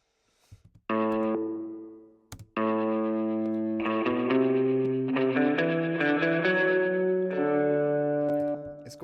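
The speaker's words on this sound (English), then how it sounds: "Now the spring reverb is next. I love this spring reverb by Arturia." A synth or instrument passage sent through an Arturia spring reverb with soft sine saturation, sustained harmonic chords and notes that carry a dark, springy reverberant tail and ring out between phrases.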